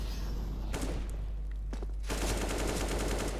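Bursts of gunfire in a competitive shooter match, a first volley early, sharp single shots in the middle, then a dense rapid string of shots, all over constant low game rumble.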